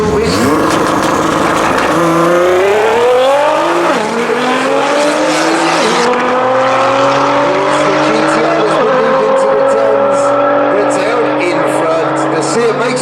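A Seat Ibiza and a Nissan GTR launch in a no-prep drag race, engines roaring loud and close as the pitch climbs through repeated gear shifts, with a commentator talking over the run.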